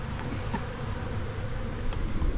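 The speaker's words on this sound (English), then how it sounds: "There's enough bees in this hive." Honey bees in an open beehive make a dense, continuous low buzzing hum that swells slightly toward the end, with no talk.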